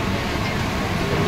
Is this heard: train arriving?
yes